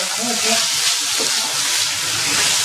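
Vegetables sautéing in a pan, a bright steady sizzle with soft stirring scrapes underneath, close and continuous.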